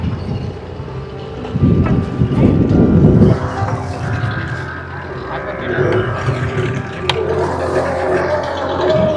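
Boat engine rumbling as the vessel moves out between two rocks near Niwati lighthouse on the Vengurla coast, steady and fairly close under gusting wind noise, with people talking over it.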